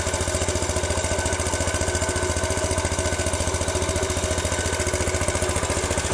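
A 1961 Cub Cadet garden tractor engine idling through its muffler, a loud, close, rapid and steady pulsing chug with a rough, throaty tone that runs unbroken throughout.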